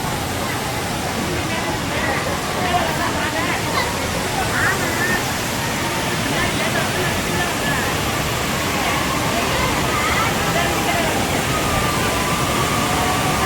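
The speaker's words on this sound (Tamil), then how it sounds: "தண்ணி நிறையா தான் வருது குற்றால அருவியில்." Heavy water pouring down Courtallam waterfall, a dense continuous roar filling the whole stretch, with faint crowd voices mixed beneath.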